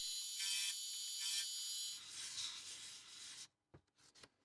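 Metal being sanded by hand with 1200 grit wet and dry paper gives a fine, hissing rub in steady strokes, close and quiet, that fades and ends with a few light taps.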